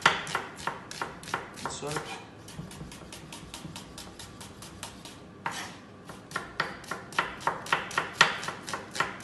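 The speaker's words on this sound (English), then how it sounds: "So slice the onions." Onions sliced with a sharp chopping knife on a board in a kitchen, a steady run of crisp close knocks, pausing briefly midway then resuming, with a few spoken words.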